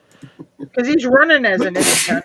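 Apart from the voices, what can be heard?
sneeze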